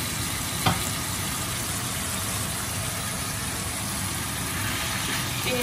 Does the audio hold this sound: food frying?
yes